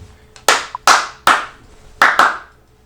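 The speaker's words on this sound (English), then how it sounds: "Clap, please." Five loud, sharp hand claps ring out in an uneven rhythm, close and dry, with no talking.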